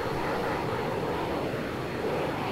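A steady, loud drone from an A-164 fixed-wing jet aircraft in flight in the military game Arma 3, a continuous engine roar with no break and no talking.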